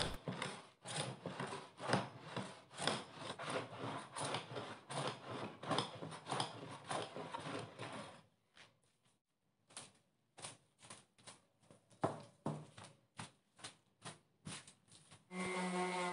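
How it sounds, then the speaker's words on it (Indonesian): Rapid rhythmic scraping strokes of a hand plane shaving the pine wood top of a folding table, repeated in quick bursts, pausing briefly midway before resuming, close and fairly quiet. "Sekarang saya akan menghaluskan dan meratakan permukaan mejanya dengan menggunakan hand plane"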